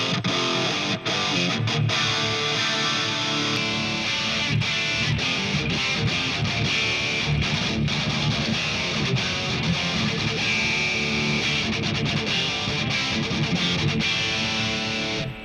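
Heavily distorted electric guitar through a Kemper into a Helix plays a thick, saturated metal tone with dense chugging and sustained chords, loud and continuous with no voices.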